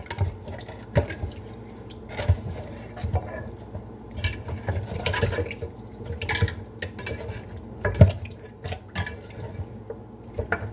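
Rice being rinsed in water in a pot: soft sloshing and dripping with occasional light knocks against the metal, close and fairly quiet, with no talking.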